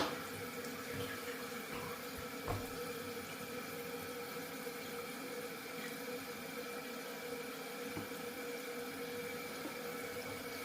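A toilet tank refills after a repair to its leaking fill valve, giving a steady close rush of running water with a faint hiss that holds even throughout, with no talking.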